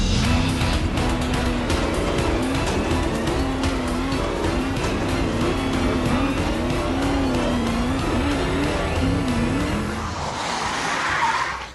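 A Renault Twizy electric car is driven hard up a hill, giving a loud, steady whine with a rising tone and tyre and road noise throughout, and the sound eases slightly near the end.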